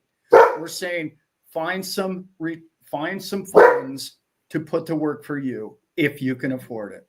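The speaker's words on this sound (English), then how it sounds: "Sorry for the dogs chiming in." Dogs bark in the background while someone talks steadily over them, the barks mostly buried beneath his voice.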